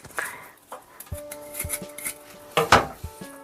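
Fresh ginger root being scraped to remove its peel in a home kitchen, giving short close scratchy strokes mixed with light clinks of a knife or spoon against dishes, with no talking.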